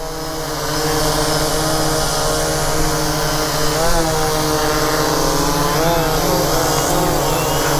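A Bayangtoys X16 GPS quadcopter drone flies steadily nearby, its propellers giving a loud, continuous buzzing whine with slight pitch wavers throughout, no voices.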